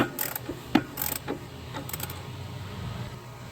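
Extended-handle ratchet tightening a 13/16 rear shock bolt on a 2011-2020 Dodge Durango: a few quick clicking ratchet bursts in the first second and a half, then faint mechanical rustling, close and moderately loud.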